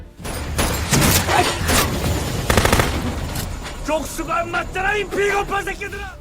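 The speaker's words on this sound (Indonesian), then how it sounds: "Jeon dan rekannya segera melepaskan tembakan bertubi-tubi ke arah Jun" Rapid gunfire from an action film shootout, dense overlapping bursts of shots that are loud and sustained, with film dialogue and score mixing in toward the end.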